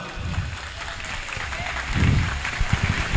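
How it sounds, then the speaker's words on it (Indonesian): Audience at a graduation ceremony for Islamic boarding school students gives a round of clapping, a moderate steady patter of many hands with low rumbling room noise and a few heavier thumps toward the end. "Beri tepuk tangan dulu dong."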